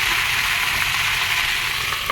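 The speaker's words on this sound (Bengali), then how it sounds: "এবার ভালো করে নাড়াচাড়া করে আমি ঢেকে দেবো" Pumpkin peel curry sizzles steadily in a pan while being stirred, a close, even frying hiss with soft scraping that holds throughout, with no voices.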